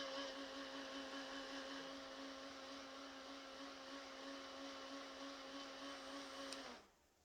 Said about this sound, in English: just gonna use my fan because it helps it dry quicker